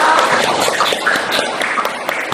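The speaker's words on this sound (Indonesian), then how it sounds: "Ya, tepuk tangan ya." Schoolchildren in a classroom clap together after a group presentation, a short, busy burst of overlapping handclaps close by.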